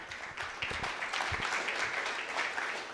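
Applause from a conference keynote audience welcoming panelists, a fairly soft, even patter of many hands that swells slightly after a quieter opening and carries on without talk.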